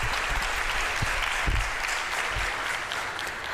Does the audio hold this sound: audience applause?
yes